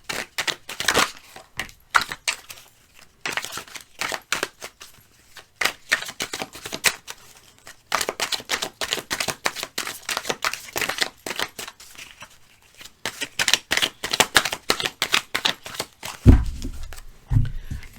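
Tarot cards shuffled again and again, rapid riffling bursts broken by short pauses, close and crisp, ending with a soft thump.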